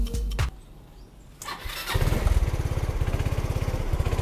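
A Yamaha Xeon 125 scooter with a newly fitted carburetor has its electric starter crank briefly before the engine catches and settles into a loud, close, rapid idle with a steady pulsing beat, with no talking.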